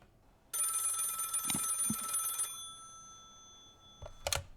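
A telephone rings once on an outgoing call, a bright trilling tone lasting about two seconds, then a brief second burst begins near the end.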